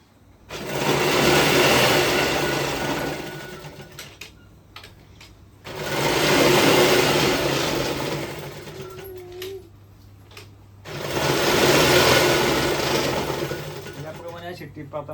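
Sewing machine stitching through a thick godhadi quilt layered from eight old saris, running in three steady bursts of whirring mechanical rattle with short pauses between, close and fairly loud.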